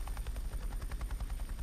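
A helicopter in a city-building video game flies with a steady rapid rotor chop, rhythmic pulsing thumps repeating throughout at a constant loud level, with no talk.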